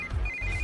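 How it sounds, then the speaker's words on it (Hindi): A phone rings with a steady high electronic tone, short and faint, over a low rumbling background, a call from a sister in a film scene. "इस वक्त दीदी का फोन।"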